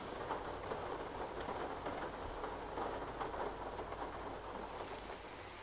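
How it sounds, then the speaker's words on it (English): Steady, dense rain pours down outdoors, heavy and continuous with a soft rumble underneath and no voices. "It's raining again."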